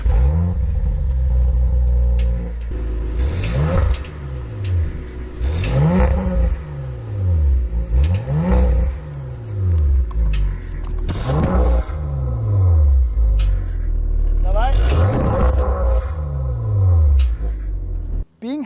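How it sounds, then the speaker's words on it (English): Audi RS5 Sportback engine and exhaust burbling through repeated rev cycles, each swell rising and falling in a deep rumbling sweep, loud and close with a steady low drone between pulls. "the car has nice burble to it"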